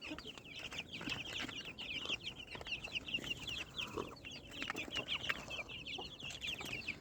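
Fayoumi chicks, vaccinated and kept in a small backyard flock, cluck and cheep continuously in a busy, overlapping chorus close to the microphone, with no voices over them.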